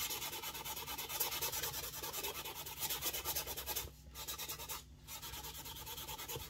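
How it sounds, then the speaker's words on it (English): Fine sandpaper rubs the area under the fingerboard of a 1934 A.E. Smith violin being repaired, giving a soft, close, steady rasp of quick back-and-forth strokes with two short pauses. "I'm using a very fine sandpaper just to sand back the area under the fingerboard"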